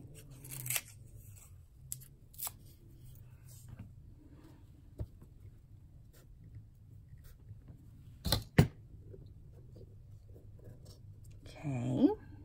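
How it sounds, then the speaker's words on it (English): Scissors snipping along the edge of a paper size 10 envelope, a few short crisp cuts spaced apart over a quiet low hum, with faint rustling and a brief voice near the end. "But I gotta trim this little edge first."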